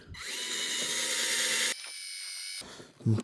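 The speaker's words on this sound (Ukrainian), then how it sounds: "Якесь фу, нудне заняття свердлити цю рельсу" A drill bit bores through a steel railway rail with a loud, close, high-pitched grinding whine. The drilling cuts out briefly, then resumes and ends with a short knock.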